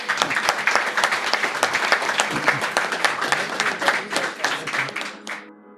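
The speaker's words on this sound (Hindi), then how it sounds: "तालियों से हौसला बढ़ाएं।" Audience applause at a ghazal recital, a full room clapping loudly and steadily, then quickly fading out as the clapping stops.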